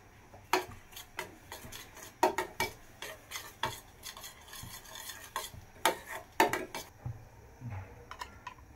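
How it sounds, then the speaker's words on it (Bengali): A paratha frying in ghee in a pan, with repeated close scrapes and knocks of a spatula against the pan over a faint sizzle, in an irregular rhythm and without speech. "পরোটাটাকে আমি ঘি দিয়ে ভাজতেছি"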